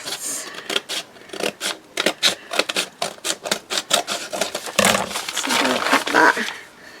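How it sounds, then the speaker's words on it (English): Scissors snip through a paper bag being trimmed straight along its bottom for a mixed media journal cover, a rapid series of close crisp cuts and rustles under a person's talk. "let's just cut a little bit more off the bottom because I don't want it too long. I'm going to try and cut it straight"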